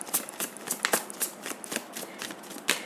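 Tarot cards are shuffled and drawn close up during a reading, producing a quick irregular series of soft papery flicks and riffles, quiet and alone.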